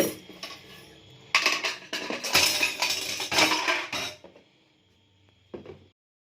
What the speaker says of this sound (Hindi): और बर्तन शर्तन थोड़े से इकट्ठे होकर मैं ये धो लूँ।